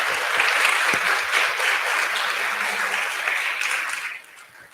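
A crowd applauds panelists at a Stop The Violence community event, with steady, full clapping that fades out over the last moment.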